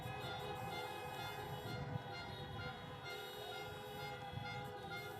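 Car horns honking in the distance at an outdoor presidential campaign rally in Minnesota, a faint, sustained blend of overlapping toots with crowd ambience, no clear talk.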